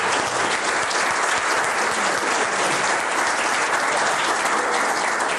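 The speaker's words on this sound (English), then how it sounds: "let's give them another round of applause." Loud, sustained applause from a large crowd, steady clapping throughout with no voices standing out.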